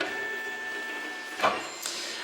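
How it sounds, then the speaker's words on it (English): A small plotter-style cutter cuts smartwatch screen protector film, giving a steady whirring hum with faint motor whines and a couple of brief louder clicks. "you send that cut job to the printer or cutter"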